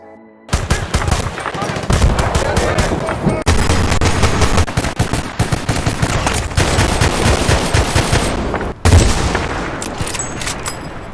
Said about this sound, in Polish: Pewnie te efekty dźwiękowe z echem wystrzałów na czele są przegięte, ale i tak robią wrażenie